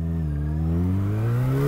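A motorcycle engine accelerates to overtake, its steady droning note climbing gradually in pitch as it revs up, loud and close with no talking.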